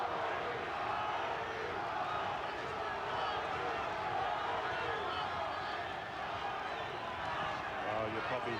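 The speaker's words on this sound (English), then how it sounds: "you probably hear that roar of support from the crowd here in the Arco Arena" Crowd roaring in the Arco Arena in Sacramento during a WBA world lightweight title boxing bout, a dense, sustained wall of cheering that never lets up, with a commentator's voice running over it.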